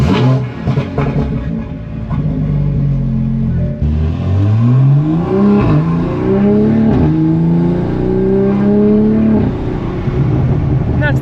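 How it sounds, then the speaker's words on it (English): Tuned 2023 Toyota Supra with a Stage 2 Bootmod3 tune accelerating hard from inside the cabin, the engine note rising through several gears with loud rasping revs, people talking over it. "that's the sound of a little, what I call it, spirited driving"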